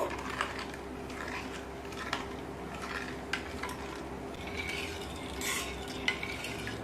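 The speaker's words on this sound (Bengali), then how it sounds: "এবার সব উপকরণগুলোকে খুব ভালোভাবে মিশিয়ে নেব।" Spoon stirring wood apple sherbet ingredients in a bowl, with soft scraping and clinks at a steady pace, faint and close, and no speech.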